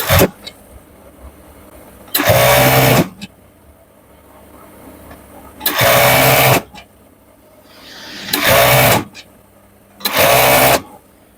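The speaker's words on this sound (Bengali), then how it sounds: "এই ফাটলক মেশিনে কিন্তু এই হাতাটা তৈরি করে নিতে হবে" A flatlock sewing machine stitches a T-shirt sleeve in four loud, steady bursts of whirring motor and needle chatter, each one to two seconds long, separated by quiet pauses.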